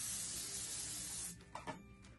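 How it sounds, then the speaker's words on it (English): Hairspray misted onto a handmade hair bow: a soft continuous aerosol hiss lasting over a second, then stopping, followed by a few faint handling rubs. "So go ahead and spray it."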